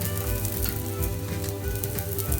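A makki aloo paratha sizzles in ghee on a hot griddle, a steady close crackling fry with a faint rhythmic scraping or pressing underneath.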